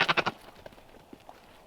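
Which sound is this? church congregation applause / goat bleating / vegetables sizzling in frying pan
goat bleating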